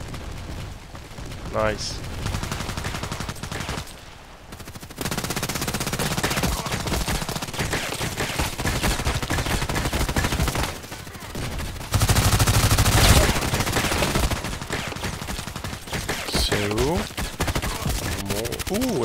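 Gunfire in the video game Contract Wars comes as repeated automatic bursts and single shots over a dense in-game mix, with a player's voice speaking briefly.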